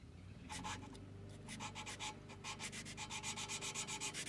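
A valve being lapped into a Land Rover Series 2A cylinder head with grinding paste, making a gritty rhythmic rubbing that repeats steadily back and forth, close and fairly quiet.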